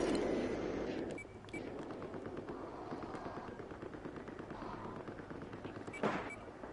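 Battlefield 4 Rush-mode gunfire rattles on in rapid, sustained bursts of automatic shots, loud and close, with a sharper crack near the end over a dull background of battle noise.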